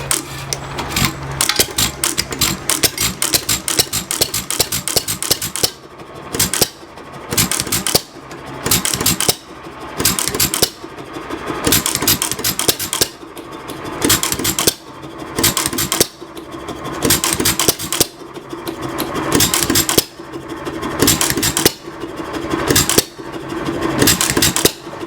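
An antique Gallatin Family Engine, a stationary gas engine with a hand crank and speed control, starts and keeps running. Loud, sharp firing pops and clatter come in a steady rhythm of bursts for the whole span.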